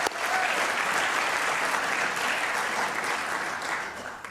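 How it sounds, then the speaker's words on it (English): An audience at a lecture series claps in a full, even burst of applause that stays loud throughout and eases slightly near the end, with no speech on top. "we can clap for that"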